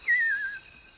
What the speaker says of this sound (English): You can hear some parakeets, gold-winged parakeets calling in the background.